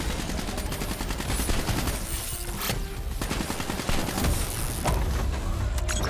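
Sustained firefight in the video game Call of Duty Black Ops 3, continuous close machine-gun bursts mixed with heavier booming impacts and a few sharp single shots, loud throughout with no talking.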